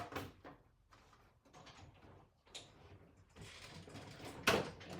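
A Stampin' Up die-cutting machine cranks a sandwich of plastic plates through its rollers, giving an irregular run of close mechanical grinding, rattles and clunks with a sharper knock near the end.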